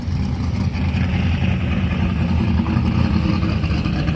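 A drag racing car at a jet car show at Kentucky Dragway does a burnout, a loud, steady, heavy engine roar with dense low rumble held throughout and no talk.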